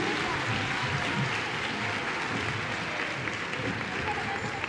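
Audience at a Chilean school cueca competition's opening ceremony gives a steady round of applause, heard from a distance as a dense, even wash of clapping.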